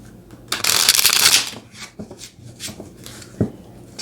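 A deck of tarot cards being shuffled: a dense, rapid riffle of flicking card edges up close, followed by a few softer taps and slides as the cards settle.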